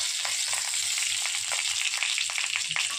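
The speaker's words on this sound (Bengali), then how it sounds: "তো চলো ফোড়নটা দিয়ে দিই" Whole spices crackle and sizzle steadily in hot mustard oil for a sour lentil dal with raw mango, a dense, close frying hiss with quick popping bursts throughout and no talk.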